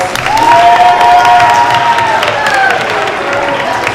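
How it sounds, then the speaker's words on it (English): Applause and cheering from a school audience at a challenge program event fill the space, broad and steady, with a sustained tonal whistle or shout riding over the crowd noise. "Give them a round of applause, guys."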